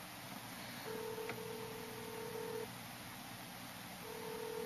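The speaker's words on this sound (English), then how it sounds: "So let's pause this and let's go to make a phone call." A phone places a call over a Canada Drive Safe hands-free FM transmitter speakerphone, giving long steady ringback tones with pauses between them, faint and clear with no talk.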